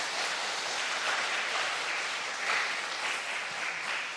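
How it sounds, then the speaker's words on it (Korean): Church congregation at a Wednesday worship service applauding, a steady, dense wash of clapping from many hands that holds at an even level throughout, with no talk over it. "우리 교사 선생님들, 목사님과 그리고 부장 집사님, 또 교사 여러분들 위해서 박수 한 번 더 하십시다."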